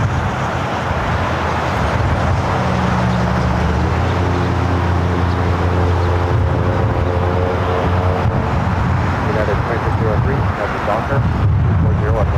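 An airliner takes off from the north side of LAX, a loud sustained engine roar that rises and shifts in pitch, with people talking over it.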